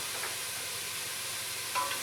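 Garlic sizzling in a pan for tortilla soup, a steady broadband frying hiss with a few faint stirring scrapes, close and continuous without talk.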